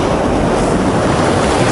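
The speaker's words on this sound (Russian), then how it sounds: "волна так-то большая, кстати, идет" A large sea wave crashes onto a rocky, seaweed-slick beach at Chkalovsky in Adler, Sochi, a loud close continuous roar of churning surf.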